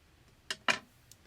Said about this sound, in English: Now here's where we want to get our scissors.